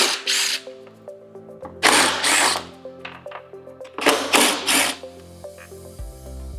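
A power driver whirs in short bursts, backing out T25 screws from the headlight of a 2024-2026 Harley-Davidson Road Glide, with several separate spins, close and fairly loud, and ratcheting clicks between runs.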